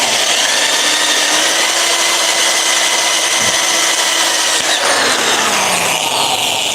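A power drill whines steadily at close range, loud and continuous, with a brief dip in pitch partway through.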